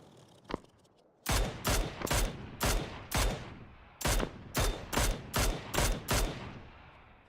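Rapid bursts of gunfire in PUBG, a single shot followed by a long string of evenly spaced loud cracks, each with a short echoing tail, heard alone without talk.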